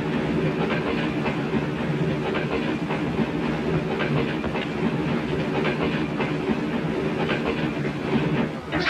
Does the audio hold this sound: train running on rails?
yes